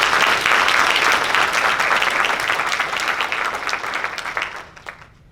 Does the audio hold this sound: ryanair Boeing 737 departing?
no